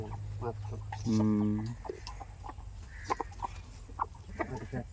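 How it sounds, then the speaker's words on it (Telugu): A native-breed hen gives a short, drawn-out cluck up close, followed by scattered soft knocks and faint farmyard movement in a quiet setting. "జాతి పెట్ట బాగుంది"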